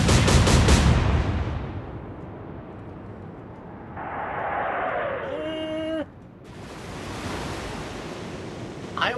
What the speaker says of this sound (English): There will be some spread on these shots because of the distance.